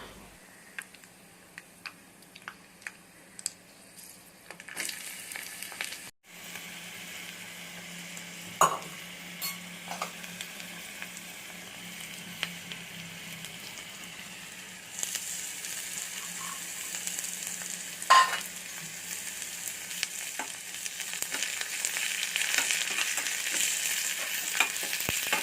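Hot oil sizzles and crackles steadily as spices and curry leaves are tempered, growing louder as more goes into the pan, with occasional sharp pops and a low hum beneath.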